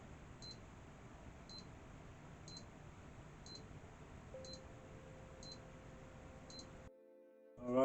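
A faint, regular series of short high beeps from a PC power supply tester, about one per second, over a low hum, followed by a brief electronic tone near the end.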